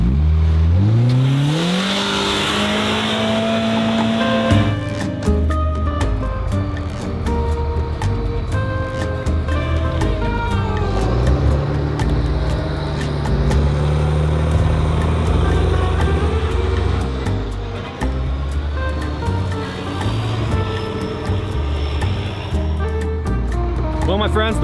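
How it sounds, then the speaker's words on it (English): A heavy snowcat engine rumbles and revs continuously, pitching up as it strains under load pulling a bus through snow, with voices talking intermittently over the steady mechanical drone. "I'm gonna have to pull it with snowcat."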